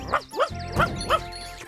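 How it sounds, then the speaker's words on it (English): Cartoon dog barking in a children's animated series set in Toyland, four quick yappy barks in a steady rhythm, close and clear over faint background music. "You silly dog, Bumpy!"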